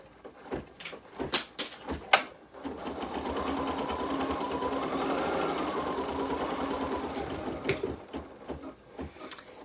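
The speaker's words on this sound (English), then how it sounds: "So I'm going to stitch out that placement line for the face." An embroidery machine stitches out a placement line for a face design, a steady mid-loud whirring run flanked by clicks and handling knocks at start and end, close by with no talking.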